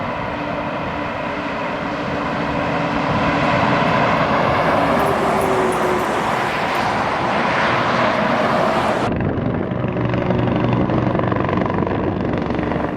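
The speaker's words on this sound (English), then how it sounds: "This is a helicopter apparently patrolling the border on the Norwegian side." A border patrol helicopter flies over the Norwegian side of the Russian border in Arctic Finnmark, its steady rotor thrum and turbine whine filling the air continuously and loudly for the whole stretch, swelling slightly midway.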